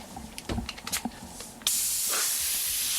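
Airbrush spraying black paint for a drop shadow: a steady, loud hiss bursts on abruptly and holds evenly, after some brief handling clicks and rustles.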